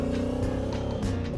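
A motorcycle engine labors at high altitude, around 5,000 m in a Tibetan snowstorm, giving a loud, steady droning hum throughout this brief moment.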